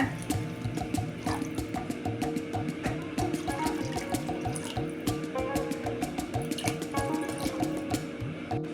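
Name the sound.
pouring water into a pan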